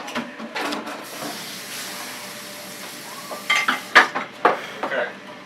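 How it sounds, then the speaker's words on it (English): A skillet is moved aside on a stovetop with a few loud metallic clanks and scrapes near the end, after quieter shuffling and faint sizzling, with a little background voice. "Now we'll set this skillet over out of the way."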